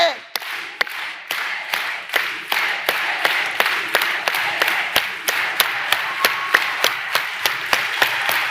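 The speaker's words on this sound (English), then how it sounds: "let's put our hands together and do a unity clap" An audience at a public talk doing a unity clap: sharp, unison handclaps that start slowly and speed up into an even, steady beat, loud and close, with no talking.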